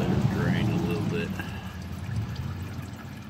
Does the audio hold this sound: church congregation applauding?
no